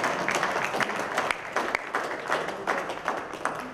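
An audience applauds at Akamai Customer Day 2017, a crowd of hands clapping in a dense, steady patter at moderate loudness without speech.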